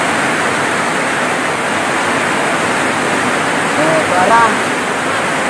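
Heavy rain pours down in a dense, steady roar without pause, and a brief voice comes through it near the end.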